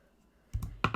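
Wire cutters snip through jewelry wire during wire wrapping for a necklace, giving two short, sharp clicks close by after a near-silent moment.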